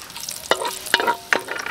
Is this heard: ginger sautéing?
yes